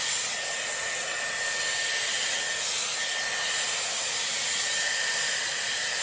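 A Dyson Airwrap with a round brush attachment blows a steady, loud, breathy rush of air while drying hair, holding an even whoosh throughout with no talking.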